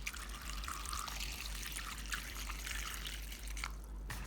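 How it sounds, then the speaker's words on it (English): Cooled boiled water poured over watermelon rind to rinse it, a steady close trickling and splashing that runs without pause for several seconds, alone with no talk. "Then rinse once again with boiled water that has been cooled down."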